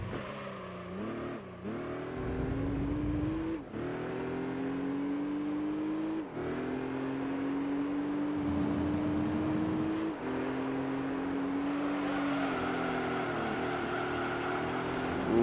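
Race car engine in Gran Turismo 3, held at high revs and pulling hard down a straight, a steady loud whine with brief dips at gear changes, continuous throughout and no talking.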